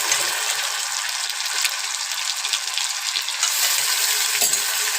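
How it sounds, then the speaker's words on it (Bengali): Ginger-garlic paste fries with spices, chilli, tomato and onion in a pan for a banana-flower curry, giving a steady close sizzle with stirring scrapes and a sharper clatter near the end, no talking. "আদা রসুনটা দিয়ে ভালো করে ভেজে নিয়ে একটু লবণ দিয়ে দেবে"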